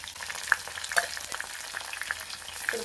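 Sliced onions frying in a pan, a continuous crackling sizzle with a few sharper pops and stirring scrapes, close and without talk.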